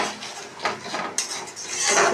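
A utensil scraping and clinking against a pan as green spice paste with salt and a little sugar is stirred and fried, with irregular metallic scrapes and knocks, fairly close and unaccompanied by talk.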